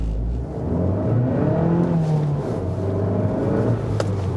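An Abarth 595C Turismo with a 1.4-litre 165 hp engine accelerates on the road, its steady engine drone rising in pitch from inside the car, with no talking.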